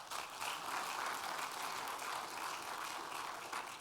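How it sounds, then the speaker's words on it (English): An indoor conference audience claps for a speaker, a dense, even burst of applause that swells quickly and stays steady, heard alone without talk. "Can I get another round of applause for Nick?"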